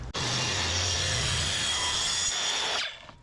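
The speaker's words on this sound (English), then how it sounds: "We are cutting baseboards for the Maslow, which is a CNC." A power tool cuts wooden baseboards for a Maslow CNC machine. It kicks in with a sharp start and whines steadily and loudly for nearly three seconds before spinning down, with no voices.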